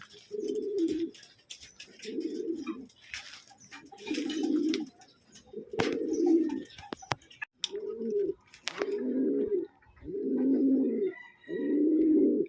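A racing pigeon just home from a training flight coos in a steady series of soft, low, rounded calls with short pauses between them, close by and with no voices around.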